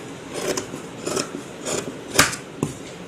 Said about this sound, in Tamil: இப்போ இந்த கை கட்டிங் பண்ணுறோம்.